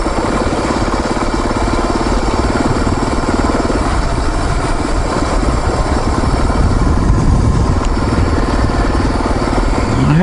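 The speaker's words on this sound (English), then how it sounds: "I've been basically just idling down this hill." A dirt bike motorcycle engine idles steadily while coasting downhill on a dirt truck trail, a continuous loud low rumble with rattling vibration and wind noise running the full length, no talking.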